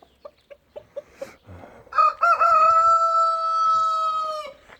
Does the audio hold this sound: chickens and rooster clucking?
yes